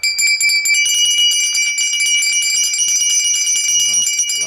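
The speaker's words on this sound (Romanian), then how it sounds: "O pereche de clopote pentru cai." A pair of old horse bells is rung by hand, giving bright, sustained metallic ringing with rapid repeated strikes, loud and close, and a brief low murmur near the end.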